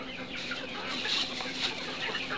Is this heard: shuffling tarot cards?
no